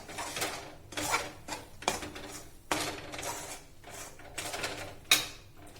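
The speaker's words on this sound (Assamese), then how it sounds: "গুড়খিনি মই লৰাই আছোঁ।" Metal spoon scraping and clinking in a pan as jaggery is stirred over low gas heat, a series of loud, bright, irregular scrapes with brief pauses between strokes.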